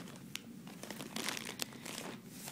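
Crinkly paper and plastic packaging sealed with a little Minnie Mouse sticker rustles and tears open in a few quick, close, soft bursts.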